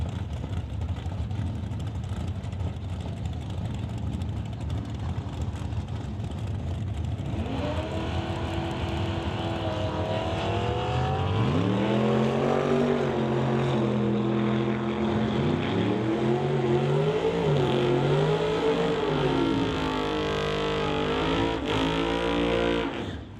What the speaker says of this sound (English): John Braining in the 1970 Chevy Camaro at 895 will be leaving 2 seconds after Richard Love in the SS Motorsports S10.